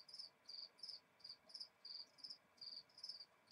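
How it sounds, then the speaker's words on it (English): Crickets chirp in steady, evenly spaced pulses, about three per second, fairly faint and close with no voices. "my crickets."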